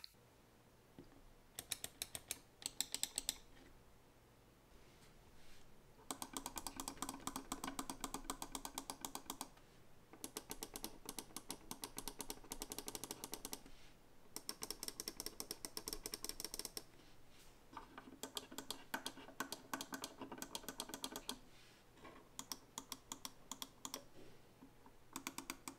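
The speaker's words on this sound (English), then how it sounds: "sit atop Omron D2LS21 switches, which have a firm and reliable 61 gram force operation point" Clicks from a Ploopy mouse on Omron D2LS21 switches with a firm 61-gram actuation come in rapid, crisp bursts of repeated clicking, separated by short pauses, close and dry.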